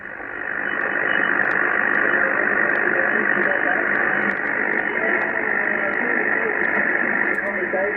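Amateur radio reception on a Kenwood TS-830S transceiver with the noise blanker engaged: a steady hiss of band noise with a faint, muffled voice coming through, and small crackles scattered on top.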